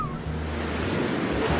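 Rough ocean surf rolls onto a San Francisco beach as a broad, steady wash of breaking water with wind noise, loud and continuous.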